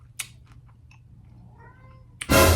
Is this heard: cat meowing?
yes